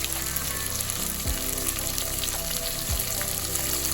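Mixed vegetables and peas frying in a pan for vegetable biryani, a dense, steady crackling sizzle close by, with a couple of low thumps as the pan or spoon knocks, and no speech.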